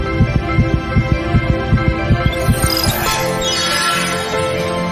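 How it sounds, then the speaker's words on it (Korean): A heartbeat sound effect: evenly spaced thumping beats that quicken, over a steady hum, before giving way to a sweeping whoosh. "심장 박동이 빨라지게 됩니다."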